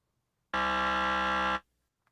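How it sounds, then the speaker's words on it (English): One loud, rasping quiz-game buzzer sounds for roughly a second, starting and stopping abruptly amid otherwise quiet surroundings. "check at that level how the correct and wrong buzzers sound"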